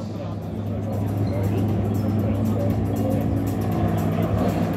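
A Le Mans endurance race car driven by Phil Hanson rejoins the track during free practice, its engine droning steadily and loudly under continuous commentary.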